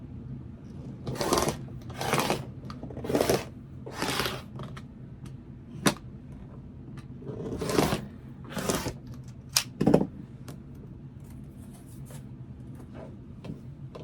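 Fabric being cut into 8.5-inch quilt blocks from strips: a series of short, close scraping strokes with slight pauses between them, some quicker and fainter, with no talking.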